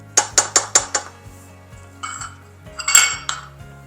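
Grape jelly and barbecue sauce being mixed for Lil Smokies in a crock pot: five sharp utensil clanks against the pot in quick succession, then softer scraping and a few clinks.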